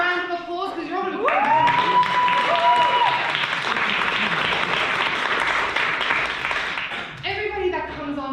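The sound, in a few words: audience round of applause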